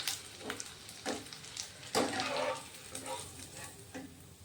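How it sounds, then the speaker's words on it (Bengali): Potato bhujia frying in hot oil until crispy, a steady sizzle broken by several louder surges as the pieces are stirred in the pan, close up with no talking. "একটু মুচমুচে করে ভাজতে হবে, একটু টাইম নিয়ে ভাজতে হবে।"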